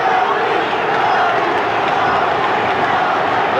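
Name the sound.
boxing crowd cheering their champion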